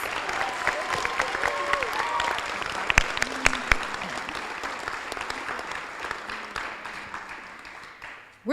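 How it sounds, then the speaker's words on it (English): Sustained applause from an audience at the CROP Awards 2015 honors graduating seniors: a thick wash of many hands clapping, with a few voices rising over it, gradually thinning before ending abruptly. "Let's give our seniors another round of applause"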